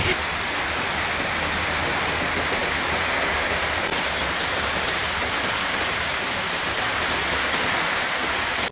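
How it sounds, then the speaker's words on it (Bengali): Heavy morning rain falls steadily, a dense, even hiss and patter that stays at the same loud level throughout with no voices. "সকালবেলায় এই হচ্ছে প্রচুর বৃষ্টি প্রচুর বৃষ্টি"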